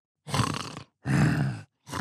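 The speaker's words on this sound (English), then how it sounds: "he's snoring" A muscular cartoon sausage character snores loudly in an animated bakery barbershop scene: three heavy, rasping, groan-like snores with short silent gaps between them, close and with no talking.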